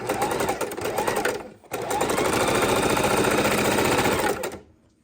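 A sewing machine stitches two pieces of quilt fabric together for a baby quilt border, running in a steady rapid whir for over a second, pausing briefly, then running again before stopping.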